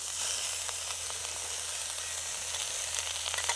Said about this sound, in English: All right, let's get the burgers in here. There we go, a nice sizzle.